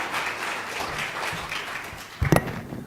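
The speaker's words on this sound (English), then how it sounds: "Let's do one round of applause." Conference audience applause in a session room at an HCI symposium, a dense wash of clapping throughout with a louder burst of handclaps near the end, fairly distant and steady.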